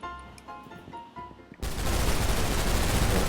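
Gunfire in a mobile shooter game, with the player firing from a rooftop: a few soft tones and taps, then a sudden, sustained burst of dense automatic fire that stays loud and continuous to the end.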